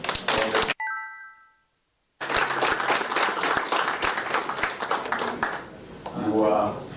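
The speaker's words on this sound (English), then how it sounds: "I think it is in order that we give them one round of applause." A hall audience at a law society presidential debate applauds the candidates, with a chime sounding before bursts of dense clapping and people talking over the end.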